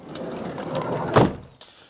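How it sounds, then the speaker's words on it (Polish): A Hyundai H100 van's sliding side door rolls along its track and shuts with a single solid thud, nearby and fairly loud, followed by a brief quieter click. "Tu są drzwi odsuwane."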